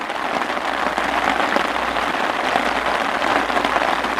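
Steady, dense rain pours down outdoors in a continuous broadband hiss, even and fairly loud throughout with no voices.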